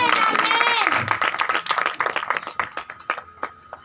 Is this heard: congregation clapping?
yes